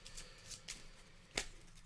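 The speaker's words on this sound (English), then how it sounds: "I am going to shuffle the enemy deck here." Shuffling the enemy card deck for the Coin & Crown board game, with a few soft riffling bursts and one sharper snap of cards near the end, fairly close and quiet with no talking.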